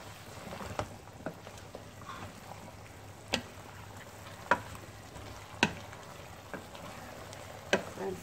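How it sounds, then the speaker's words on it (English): Beef and vegetables frying in a pan, Turkish style, are stirred with a utensil that strikes the pan in sharp, spaced clicks over a low, quiet sizzle. No speech. "So I'm stirring this a little bit more now."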